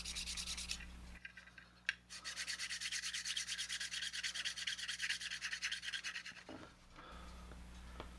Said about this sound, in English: it's time for more cleanup with sanding, filing, and filling as needed